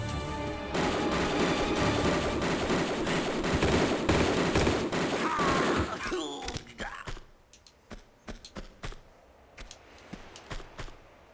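Gunfire in the video game Tomb Raider Remastered: a dense burst of rapid automatic fire for about six seconds, then scattered single shots and thuds over quieter game ambience.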